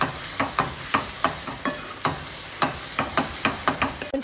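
Meat frying in a pan gets grape juice added, heard as a sizzle broken by a string of sharp, regular clacks, likely a utensil stirring or scraping the pan, close and steady with no talk.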